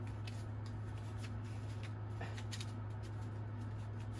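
Phase 10 cards are shuffled with quiet, soft riffling flutters that come in several short bursts over a low steady hum.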